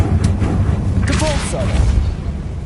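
A Confringo blasting spell goes off in Hogwarts Legacy, a deep rumbling boom that swells for a moment with a bright crackling burst, the low roar continuing under a voice.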